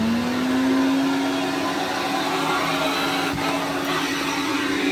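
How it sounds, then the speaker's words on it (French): An electric vacuum cleaner from 1950 runs steadily, giving a loud continuous whirring drone with a constant motor whine and no pauses. "je vais aspirer"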